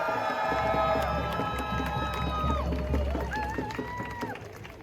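A large crowd at a Palestine march rally in Cardiff cheers and shouts continuously, with whistles and a horn-like tone rising above the roar.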